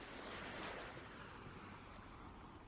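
Ocean waves and wind at sea blend into a continuous broad, roaring wash that swells slightly and then eases, with no voices present.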